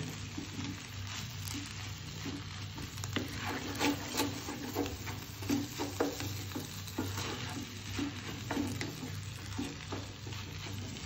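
A chicken filling sautés in a frying pan for a chicken, rice and vegetable dish, with a steady close sizzle and repeated scraping and stirring strokes throughout, and no talking.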